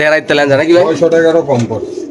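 Racing pigeons cooing at a pigeon market, a loud close burst of throaty warbling coos with a voice talking over it.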